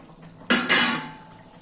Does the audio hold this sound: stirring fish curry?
yes